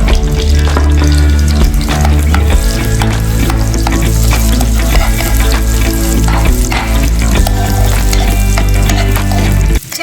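Loud, steady sizzling of chopped onion and garlic cloves frying in hot oil as a tempering for mustard greens, a dense crackling hiss that continues throughout with occasional stirring clatter.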